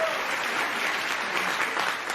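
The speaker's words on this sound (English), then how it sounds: "Stop clapping." A studio audience applauding, a dense burst of many hands clapping at steady volume for a couple of seconds.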